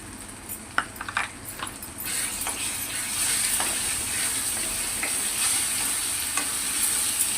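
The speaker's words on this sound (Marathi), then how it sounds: "आणि स्लोवरती 2-3 मिनटं आपण मसाला चांगला फ्राय करून घेऊया" Fish masala spices fry in a pan on low heat, giving a steady close sizzle and hiss with a few clinks of stirring near the start.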